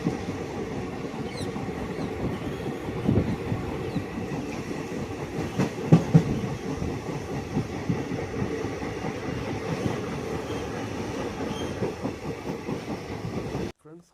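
A local passenger train in Punjab runs steadily along the rails, a continuous rumbling interior drone with rhythmic clickety-clack of wheels over joints and a few louder knocks, no talk.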